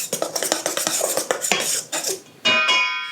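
Salt is stirred quickly into pie crust dough in a bowl, giving rapid, close scraping and clinking of a utensil against the bowl, ending in a brief ringing clink.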